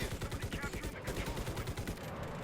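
Machine gun fire in the Enlisted video game rattles in a fast, steady stream of closely spaced shots that continues throughout, loud and near, with faint talk underneath.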